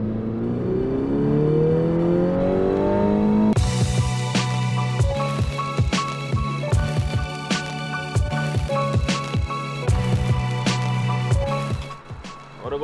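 A car engine running while driving, a steady hum that rises in pitch and then settles into a rough, fluttering drone with rhythmic thumps and rattles, loud and close throughout.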